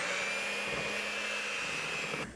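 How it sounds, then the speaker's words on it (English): An electric mixer on low speed beating Milo cake batter, a steady close whirring hum that runs unbroken and cuts off at the very end. "Mix on low."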